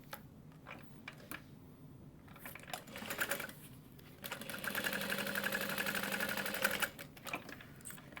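A sewing machine top stitching through the bottom of a tote bag, quiet rapid mechanical whirring in short runs that grows into a steadier stretch of stitching, then stops.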